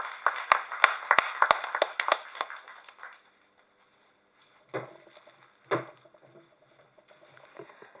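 Brief scattered applause from a small press meet audience welcoming a singer, a few seconds of sharp close claps that fade out, followed by a quiet room with occasional thumps and shuffling.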